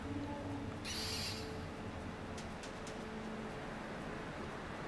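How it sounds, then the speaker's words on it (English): An owl in the video game Far Cry Primal gives a single clear hoot early on, heard alone over a steady, faint ambient game hum. "I'm gonna send in the owl."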